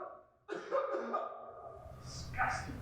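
A single person coughs into a mask during a demonstration, giving one abrupt cough followed by breathy, raspy trailing sounds and faint background noise, moderately close.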